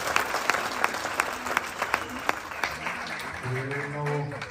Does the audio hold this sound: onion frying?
no